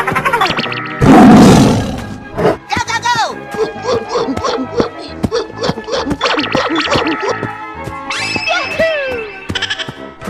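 A tiger roars in a 3D animal slide video game amid a busy string of bleating, growling animal calls and game effects, loud and close throughout.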